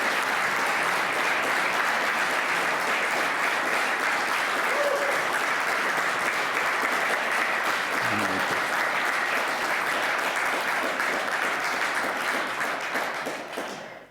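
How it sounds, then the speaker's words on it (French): Loud, sustained applause from a conference audience fills the room for more than ten seconds at an even level, then cuts off near the end. A brief voice rises faintly partway through. "je vous demande de les applaudir bien fort"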